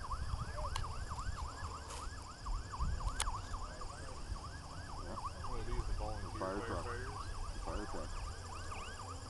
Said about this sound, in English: That's probably one of the three ambulances that were called.